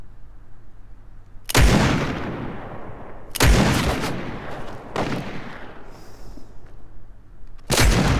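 Loud scoped revolver shots in a video game, four heavy single blasts spaced roughly two seconds apart, each with a long booming decay, no talk.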